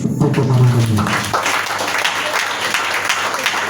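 A church congregation claps and cheers to acclaim Jesus, with loud sustained applause rising over the tail of a voice at the start, then a dense, close crowd of hands clapping continuously.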